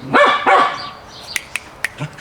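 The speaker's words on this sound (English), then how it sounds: "The other dog wants to play." A dog barks twice in quick, loud succession close by, eager to play fetch outdoors, followed by a few faint clicks and soft scuffs.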